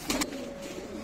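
A racing pigeon, now kept for breeding, coos softly and close, a short low murmuring call with a brief louder burst near the start and no talk.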